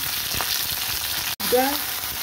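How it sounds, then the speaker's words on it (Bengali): Okra dropped into hot oil tempered with nigella seeds sizzles steadily and close, with a sharp brief gap followed by a renewed burst of frying and stirring. "এবার আমি ঢ্যাঁড়সগুলো ছেড়ে দিই।"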